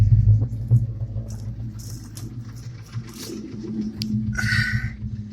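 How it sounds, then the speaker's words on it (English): A 1999–2004 Ford Mustang 4.6 V8 idles steadily near 800 rpm, a close, continuous low rumble with a suspected timing chain tensioner noise and oil and water mixing, with a few faint bird calls and light ticks above it. "she's idling just where you want her, about 800."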